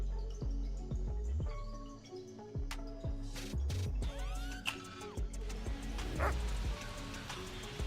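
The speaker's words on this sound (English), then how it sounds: "I hear the dog barking already." A dog in a video game, barking in short, spaced yips and woofs with a few whimpering tones, set among game music notes and scattered clicks and drips.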